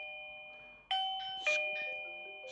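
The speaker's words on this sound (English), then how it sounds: "Press the doorbell." An AOSU Video Doorbell Ultra chime sounds at the front door after the button is pressed: clear electronic ding-dong tones ring out twice against a faint steady hum, each note fading slowly.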